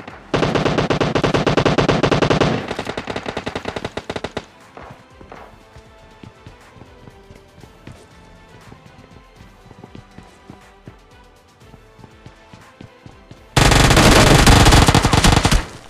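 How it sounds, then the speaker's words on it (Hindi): Rapid UZI automatic gunfire in PUBG Mobile Lite, loud sustained bursts at the start and again near the end, with quieter in-game sounds and scattered shots between. "गोली चल रही है"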